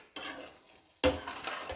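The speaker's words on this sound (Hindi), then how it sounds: "ये हमने अच्छी तरह से मिक्स कर देना है इसमें" A spoon stirring milk powder into carrot halwa in a pot, two scraping, clinking strokes against the metal with a faint sizzle between, close and alone.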